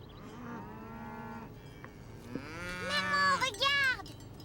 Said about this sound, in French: Maman, regarde! Des vaches!